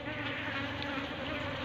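A dense, continuous swarm of bees buzzes loudly and steadily, close by, filling the whole moment with no voices.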